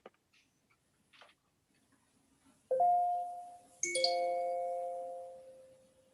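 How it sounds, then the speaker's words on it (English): Two chime tones like an old department store door chime ring out clearly in a quiet room, the second following about a second after the first, each sustaining and slowly fading. "Sounds like an old department store with the chimes."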